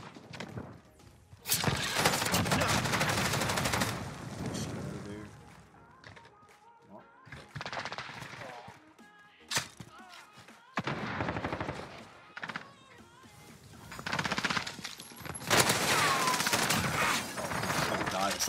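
Loud bursts of light machine gun fire from a Bruen MK9 in Modern Warfare, coming in several separated volleys with quieter gaps of game ambience between them.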